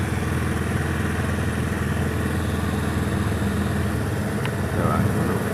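A motorcycle engine idles steadily after an oil change, with a constant close mechanical drone and no clear change in rhythm.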